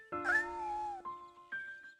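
Kitten in Shenmue gives one clear, high, drawn-out meow followed by two short softer mews, heard alone and close.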